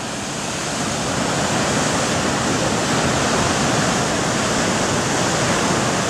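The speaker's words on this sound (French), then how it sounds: "ça va être des grosses vagues" Large waves hit the Socoa seawall at high tide after stormy weather, a loud, continuous, broad roar of surf and spray that swells slightly at the start and then stays constant.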